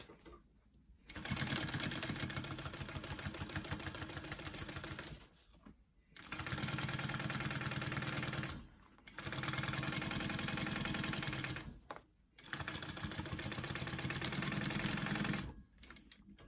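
A sewing machine runs a reinforcement stitch on a hip bag flap in four sustained bursts of rapid, even mechanical chatter, separated by brief quiet pauses.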